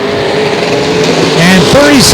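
Race cars lapping at Sauble Speedway, a loud continuous engine roar with rising and falling pitch as cars pass, heard under a commentator talking throughout.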